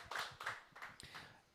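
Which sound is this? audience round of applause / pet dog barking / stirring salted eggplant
audience round of applause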